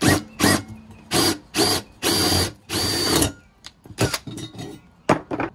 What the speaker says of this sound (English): Basically we're gonna drill out the rivets from the aluminum brackets and then transfer them to the steel Rhino fit brackets.